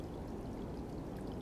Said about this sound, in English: I can hear the trickle of the water.